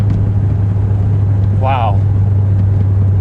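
A 1985 Chevy Corvette engine drones steadily at about 50 mph, a continuous loud low rumble with a strong hum that lasts the whole stretch, while one short exclamation from the driver cuts in partway through.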